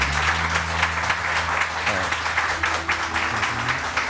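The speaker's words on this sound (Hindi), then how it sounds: "बहुत सारी तालियां बजाइए बजाइए।" A studio audience applauds steadily on a Pakistani morning talk show, dense clapping filling the whole stretch with a low hum of music or tone underneath.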